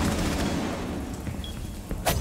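Dense, continuous gunfire and booming blasts from a Rainbow Six Siege Operation New Blood match, loud and close with no voices.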